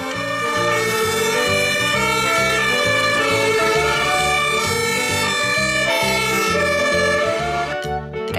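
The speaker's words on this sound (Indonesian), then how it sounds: "Ternyata ini adalah mobil pemadam kebakaran ya." Fire engine siren wailing loudly and close, a continuous rising and falling electronic tone with steady rhythm, heard alone without talk.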